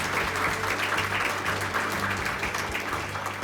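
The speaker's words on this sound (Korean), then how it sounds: "준우승의 영예를 차지한 팀에게 다시 한번 축하의 박수를 부탁드립니다." Congratulatory applause from an audience at a competition awards ceremony for the runner-up team, steady and continuous clapping from many hands throughout with a low hum underneath.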